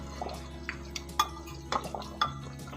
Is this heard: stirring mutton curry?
yes